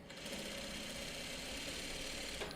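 A sewing machine stitching steadily as quilt squares are chain pieced, a continuous close, fairly quiet mechanical hum and whir that ends with a faint click.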